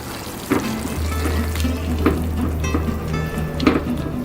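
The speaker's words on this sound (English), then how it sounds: "So I'm going to put in the chile verde sauce." Chile verde sauce hisses and sizzles in a hot pan with steak, a loud steady frying crackle with occasional stirring scrapes, close by.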